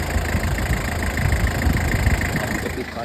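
A 1996 Toyota with a 2500cc diesel engine idles nearby, a low steady rumble with faint knocking under someone talking.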